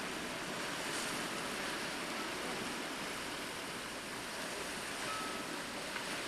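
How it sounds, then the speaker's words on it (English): Ocean waves breaking against moss-covered rocks on the Acadia, Maine coast, heard as a steady, broad wash of surf with wind, continuous and fairly distant, with no voices. "See the ocean hitting the rocks down here"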